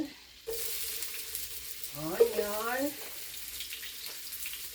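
Onion dropped into a hot pan starts a steady close sizzle from the moment it lands, with a brief clatter and a voice talking over the frying while a curry is being cooked.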